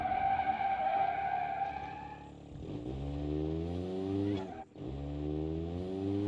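A car engine in the driving game BeamNG.drive revs and pulls through rising gear changes, a steady close drone with one sharp shift dip, and no talk.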